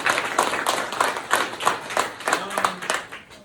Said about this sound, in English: Clap it up, Ms. Allen.